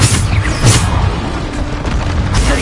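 A deep booming blast from a Bombarda explosion spell in a wizard video game, a loud rumbling impact with dense noisy rolling debris and a couple of sharper crackles over about two seconds.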